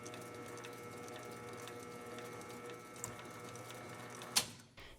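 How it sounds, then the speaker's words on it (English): A metal lathe turning at 100 RPM on power feed makes a knurling pass, giving a faint, steady mechanical drone with light rhythmic ticking, one sharp click near the end, then it quiets. "I'm running at 100 RPM here, and I engage the power feed to do one pass down the area there that needs to be knurled."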